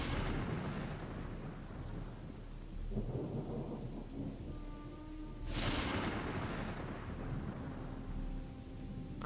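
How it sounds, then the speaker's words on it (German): Night thunderstorm in the video game Gothic 2: steady rain hiss throughout, with a deep rolling thunder rumble midway and a sharp, loud crack of thunder near the middle, then rain continuing alone. "Okay, das mit Gewitter ist jetzt gerade echt heftig."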